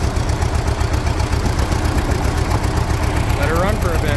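A Farmall H tractor engine idles loud and close, its low even chugging pulsing steadily throughout without a break.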